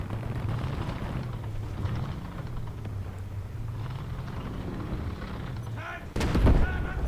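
A tank cannon shot and impact in War Thunder Mobile gameplay with an AMX 13 light tank, a single sharp loud blast near the end following a stretch of engine rumble and background noise.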